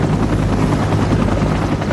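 A rescue helicopter flying close by, its rotor producing a loud, steady thumping chop with constant engine roar throughout.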